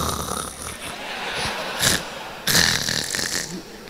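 A man imitates snoring during a Spanish-language sermon: rough, breathy snorts that swell and fade, with louder bursts near the middle and toward the end, heard clearly with no talking over them.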